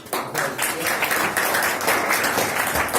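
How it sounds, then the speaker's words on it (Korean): Audience applause in a university lecture hall greeting a visiting professor, a steady, dense wash of many hands clapping continuously for about three seconds, with a faint voice or two underneath. "박수로 맞이해주시면"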